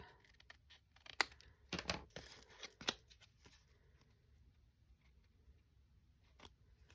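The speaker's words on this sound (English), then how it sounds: "Just cut the corners off." Scissors snip the corners off a thin mail card in a few quick, crisp cuts close to the mic, then quiet paper handling in an otherwise hushed room.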